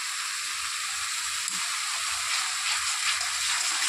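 Masala frying and sizzling in a pan for a Bengali fish curry, a steady close hiss that holds evenly throughout with no talking.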